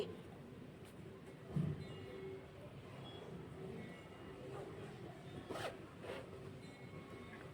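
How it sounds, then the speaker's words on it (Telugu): An invisible zipper being closed on freshly sewn fabric, a soft close zipping run with a brief louder burst partway through and more faint zip strokes later, heard near against a steady low background hum. "ఇప్పుడు ఒకసారి జిప్ని క్లోజ్ చేసి చూపిస్తాను చూడండి"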